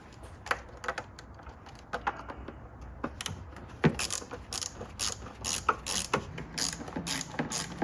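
Nissan Versa air duct to the throttle body being loosened with a ratchet, giving rapid close clicking bursts spread through the clip, some louder and sharper than others, with no talk.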